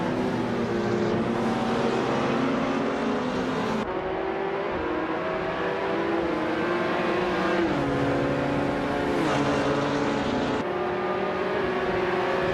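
GT4 race cars in a video game roar around a track with tight corners, engines droning and shifting pitch through constant revving and gear changes, loud and unbroken with no voices.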